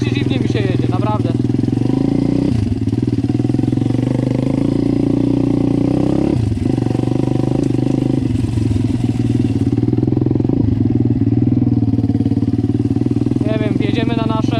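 Motorcycle engine running steadily up close while riding barefoot, a continuous rumble with slight rises and dips in revs, and a voice talking intermittently over it.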